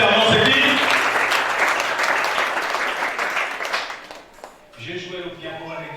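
A church congregation bursts into dense, loud applause to acclaim the Lord. The clapping fades after about four seconds and a voice picks up.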